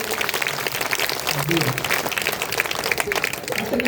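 An audience at an evening Karthika festival religious discourse gathering claps together: dense, continuous, fairly loud applause lasting the whole moment, with a voice speaking over it.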